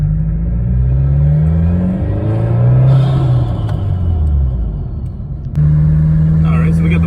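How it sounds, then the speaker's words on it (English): A 2022 Subaru WRX fitted with a Burger Motorsports (BMS) intake rumbles close by, its engine tone rising and falling as it accelerates with turbo noise, and a sharp shift in sound near the end. "so the BMS intake, gonna get a little bit of turbo noises real quick."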